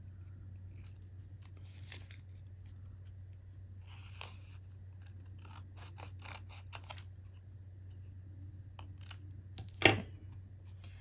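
Scissors snip around a paper tag for a junk journal craft, a series of crisp close cuts and rustles over a low steady hum, ending with a sharper louder clack, with no talking.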